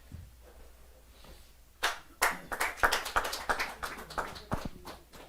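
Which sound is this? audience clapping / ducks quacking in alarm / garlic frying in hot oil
audience clapping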